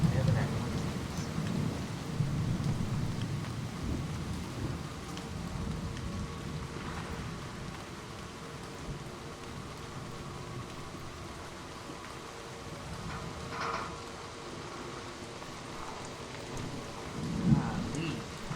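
Thunderstorm in the video game Season: A Letter to the Future, with steady rain hissing and rolling thunder rumbling low at the start and again near the end, loud and continuous throughout.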